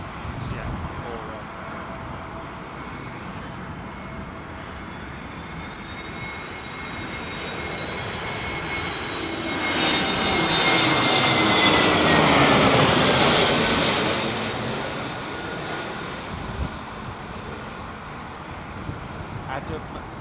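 A Delta Airlines jet passes at Heathrow Airport in Storm Ciarán, its engine roar swelling to a loud peak mid-way and then fading, over constant gusting wind, with people talking intermittently.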